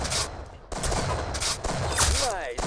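Video game gunfire in quick bursts of sharp shots, loud and close, with a brief gap and a rising whoosh-like effect near the end, game noise layered densely throughout.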